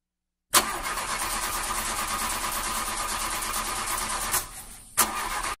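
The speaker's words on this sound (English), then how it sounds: "My car just died." A car engine cranks to life with a sudden whirring start, runs in a steady, loud mechanical drone, then sputters and drops away as it dies, followed by a brief sharp burst of noise at the end.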